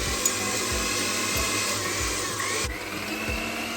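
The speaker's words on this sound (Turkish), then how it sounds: "şekerimi koyuyorum ve çırpmaya başlıyorum" An electric hand mixer whisks eggs and sugar for a tahini and walnut cake batter, a steady continuous motor whir with faint rhythmic knocks of the beaters against the bowl.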